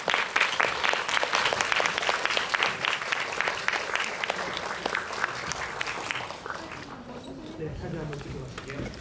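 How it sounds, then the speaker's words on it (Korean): An audience applauds at a film screening Q&A, with loud, dense clapping from a crowd that fades out toward the end while a voice speaks over the tail. "박수 부탁드립니다"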